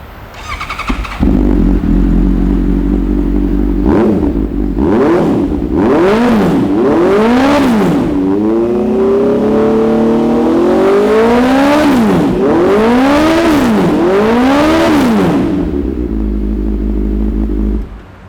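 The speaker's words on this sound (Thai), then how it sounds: "เดี๋ยวเรามาฟังเสียงเครื่องยนต์กันครับ" A motorcycle engine idles, then is revved hard in repeated rising and falling bursts, loud and close, before settling back to idle; no one speaks.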